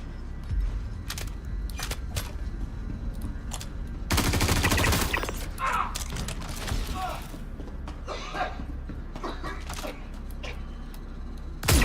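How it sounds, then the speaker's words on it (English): Gunfire in the Star Citizen shooter, with scattered sharp single shots, then a loud sustained burst of automatic fire in the middle, followed by more sporadic cracks, some thuds and occasional mechanical clatter. "who is shooting at me?"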